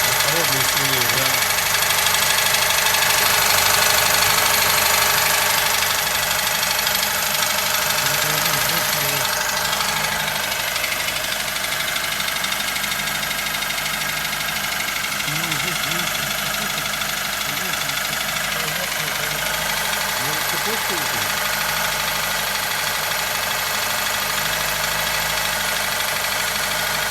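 A Toyota 2SZ engine idles with a steady rumble and a faint rhythmic knock beneath it, recorded close up, while voices talk at intervals over the running motor.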